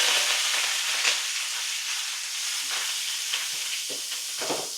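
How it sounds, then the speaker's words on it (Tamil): Onion, green chili and curry leaves fry in oil and ghee with cinnamon, cloves and cardamom, giving a steady close hiss with faint stirring scrapes. "வெங்காயம் நல்லா பொன்னிறமாக ஆகணும், அது வரைக்கும் வதக்கணும்."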